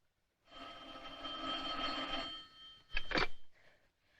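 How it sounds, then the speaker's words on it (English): An old-fashioned telephone bell rings indoors in one sustained burst, then gives a shorter clattering ring after a brief pause, with no voices. "Answer the phone."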